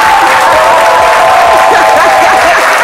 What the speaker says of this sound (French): on applaudit très fort pour Paula Gouré